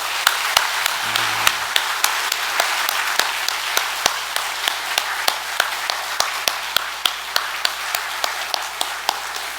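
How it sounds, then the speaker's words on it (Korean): A church congregation applauds together in sustained, steady clapping with sharp individual claps standing out, loud and close, with no talking over it. "이 시간 우리 승리교회에서 봉사하는 모든 봉사자들을 위해서 우리 다 같이 칭찬과 격려의 박수 아낌없이 한번 보내줍시다."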